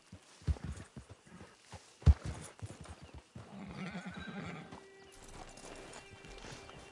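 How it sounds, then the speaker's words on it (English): In the video game Red Dead Online, a horse's hooves clop in an uneven series of close footfalls, followed by a drawn-out neigh and a quieter stretch of movement. "Get your horse."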